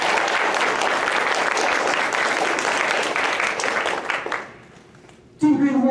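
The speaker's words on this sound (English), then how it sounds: "Let's all give them a big round of applause," An audience applauds veterans at a presentation, steady dense clapping and some cheering for about four seconds before it fades out, then a voice resumes speaking close to the microphone.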